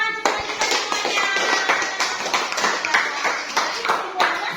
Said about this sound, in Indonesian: terima kasih semuanya ya, tepuk tangan semuanya semuanya